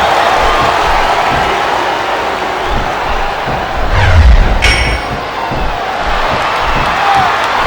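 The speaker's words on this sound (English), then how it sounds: "This capacity crowd is making their opinions known tonight." Capacity arena crowd at a WrestleMania event in WWE Smackdown vs Raw, a loud continuous roar of cheering with a thud and metallic ding rising above it midway.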